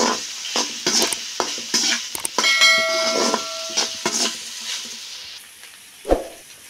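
Okra stirred with salt in a pan: a spoon scrapes and clinks against metal in an irregular rhythm over a light sizzle, ending with one louder knock, close and without voices.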